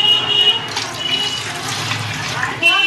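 Water pours steadily from a vessel into a pot of oil-glossed masala for chicken biryani, a continuous splashing rush that briefly stops and restarts at the end.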